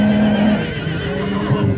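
A horse at a rural livestock fair in Sighetu Marmației lets out a loud, close whinny that wavers and trails off, with faint hoof movement beneath.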